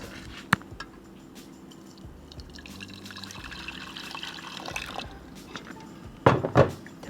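Hot water poured into a pot of sambar curry in a home kitchen, a soft, quiet liquid trickle with faint splashes near the end, set over low background noise.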